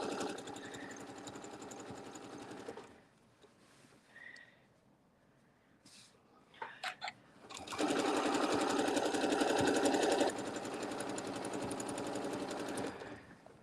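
A sewing machine stitches large ovals on a fabric table topper, its fast motor hum running in bursts, stopping, then resuming, with a short pause and a few brief clicks between runs, close and steady.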